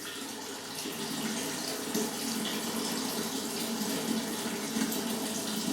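Water runs steadily into a wine kit fermenter already holding room-temperature grape juice, a continuous broadband splashing and gushing that stays even and fairly close throughout, with no talking.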